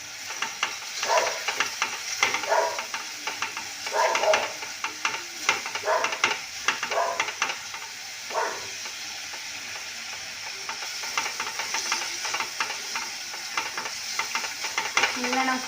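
Onions frying in a pan for a simple home fish curry, with a steady crackling sizzle and repeated scraping stirs of a utensil against the pan, close and moderately loud, no talk.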